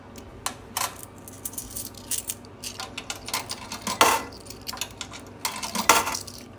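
Quarters dropping into the coin slot of a hotel guest laundry machine, a series of sharp metallic clinks and rattles at irregular intervals, close and fairly loud with no talk.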